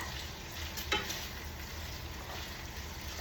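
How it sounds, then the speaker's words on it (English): Bacon crisping in a pan, a steady close sizzle and crackle with faint stirring, one brief louder pop near the start, no voices. "So we're waiting for this bacon to get all crispy."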